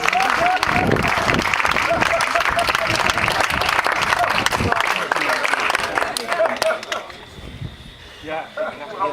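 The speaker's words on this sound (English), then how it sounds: "Let's hear a big applause for Dr. Johnsen." A lecture audience at a Sea&Learn talk gives a speaker loud, sustained applause that thins out after several seconds, leaving scattered claps and room murmur.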